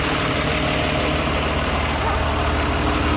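Bus engine idling at a bus stand on the Kolhapur to Borivali route, a loud, steady low diesel rumble holding constant throughout.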